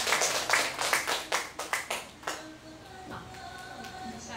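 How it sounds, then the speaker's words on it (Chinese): An audience claps in welcome for a teacher at an indoor gathering: a handful of separate, sharp claps in an uneven rhythm that quickly thin out, followed by a quieter stretch with faint ringing tones. "我们也用热烈的掌声来欢迎"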